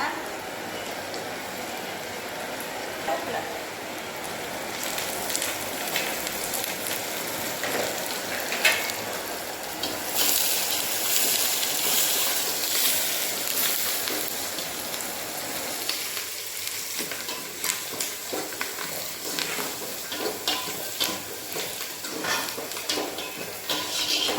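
Onions fry in a pan for festival cooking, making a continuous hiss and crackle with occasional utensil clinks, close by and fairly loud, while a voice talks over parts of it.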